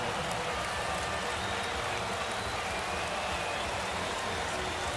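Steady, dense hiss of rainfall in a Madden 26 football game, a constant wash of rain noise at an even level with no other distinct sounds.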